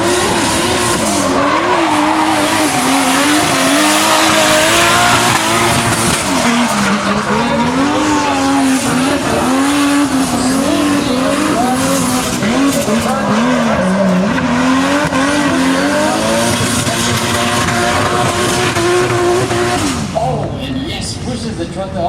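Drift cars at King of Drift Asia 2015, including a Toyota Corona and Nissan 240SX, howl and rev as their tires squeal continuously through a long slide, loud and close, with a commentator talking over the engines.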